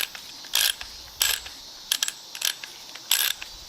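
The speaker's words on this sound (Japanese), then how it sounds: "今カシメを起こしたんで、これで規定トルクでちゃんと閉まるか" Sharp ratcheting clicks from a torque wrench tightening a nut on a Suzuki Jimny JA22, five short bursts spaced irregularly, close and crisp against a quiet garage background.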